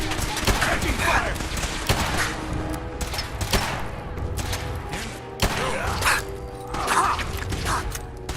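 Rapid gunfire bursts and mechanical weapon clatter from the video game Fallout 4, loud and sustained with overlapping shots and shouted combat voices mixed in.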